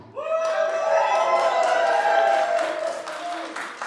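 A professional wrestling arena crowd cheers and whoops in a sustained roar, with scattered clapping, while a voice talks loudly over the noise throughout.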